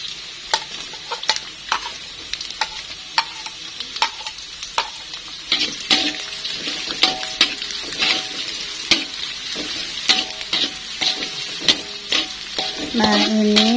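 Shallots fry in a pan over a steady, loud sizzle, with frequent sharp scrapes and taps from a utensil stirring them, working toward half-cooked while squid and petai wait to go in.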